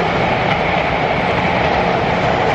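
A train runs steadily past near a station in Odaiba, Japan, a continuous loud rumble and rattle of rail cars that holds the whole stretch with no talk over it.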